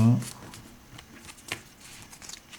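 A deck of cards for a board game gets shuffled up close, a soft flurry of riffling and patter. A voice is briefly present under it.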